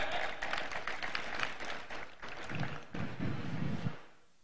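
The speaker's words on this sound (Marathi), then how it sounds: "बसलेल्या लोकांसाठी टाळ्या वाजवा" An outdoor crowd at a public ceremony claps in a dense, steady burst that thins and fades after about four seconds, fairly distant.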